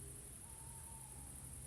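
An owl hoots once at night in the countryside, a single drawn-out tone held for roughly a second, faint and distant over a steady bed of cricket-like insect buzz at a resting spot along a forest track.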